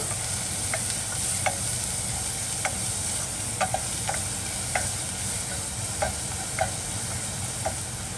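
Curry leaves sizzle steadily in hot oil in a pan for a moorkuzhambu-style curry, with a continuous frying hiss and a series of light, evenly spaced spoon clicks as they are stirred.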